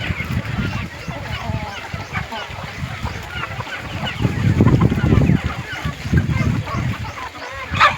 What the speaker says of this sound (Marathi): तुम्ही बघू शकता कोंबड्या किती आवडीनं खातात